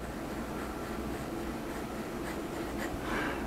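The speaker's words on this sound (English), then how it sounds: "so as I write with this" A Majohn S5 eyedropper fountain pen writes on paper, its nib giving a faint, soft, continuous scratching over a steady hiss, with no talking.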